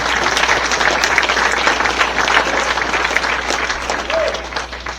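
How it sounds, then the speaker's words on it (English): Loud, sustained audience applause at a baseball hall of fame induction ceremony, many hands clapping steadily throughout with faint crowd murmur underneath. "they deserve a round of applause too"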